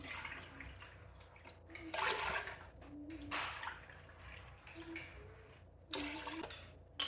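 Goat milk pours into a pot in several short bursts with soft splashing and gurgling, close by, with quiet pauses between pours.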